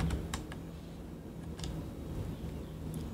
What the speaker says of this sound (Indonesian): Maka pada E4 kita ketik angka 1.